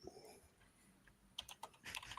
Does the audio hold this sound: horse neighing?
no